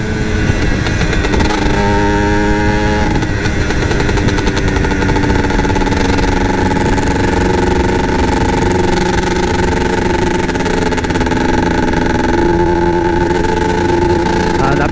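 A Yamaha TZM two-stroke motorcycle engine revs hard at high RPM, a loud, continuous buzzing drone with rising pitch sweeps near the start, then a sustained steady high-rev wail held throughout.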